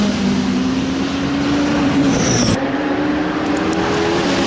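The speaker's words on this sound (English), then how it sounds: "Great battle heading down there between the Chevron and the BMW." Race cars, a Chevron and a BMW among them, roar past in close battle at the Brands Hatch GP circuit during a 2012 Britcar endurance race, with loud sustained engine drone and shifting pitch as they pass.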